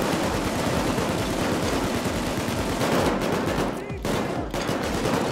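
Police gunfire aimed at the player during a heist in the video game Payday 2, dense rapid automatic shots rattling loud and close for several seconds, briefly easing near the end.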